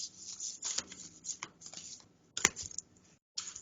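Tarot cards are shuffled by hand, a run of soft papery riffles and taps in irregular bursts with a short pause, close and fairly quiet.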